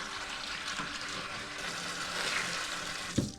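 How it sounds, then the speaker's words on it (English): A pillowcase being rinsed under running water to wash out washing soda, a soft steady splash and flow from a tap with a small slosh near the end, no talking. "what I'm going to do next is rinse out that pillowcase to get all of the washing soda"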